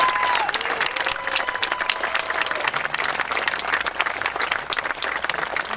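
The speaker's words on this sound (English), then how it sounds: "we'd like to give them all a big round of applause for putting this together" A crowd at the Kings Park, New York Fire Department's 100-year celebration claps in steady, dense applause that stays loud and even for the whole stretch.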